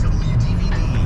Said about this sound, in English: I'm in the car right now. I'm on the freeway.